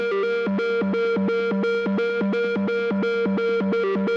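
Synthesizer solo played through distortion, chorus and echo effects: a loud, buzzy lead repeating a fast, even pulsing pattern that jumps between a low note and higher notes, with no voices.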